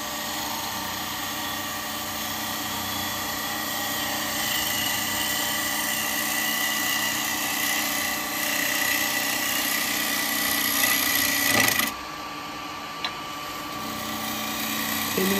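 A wood lathe turns steadily while a gouge makes a light push cut, producing a continuous whirring hum with a faint scraping edge, broken by a brief dip and knock near the end before the drone resumes.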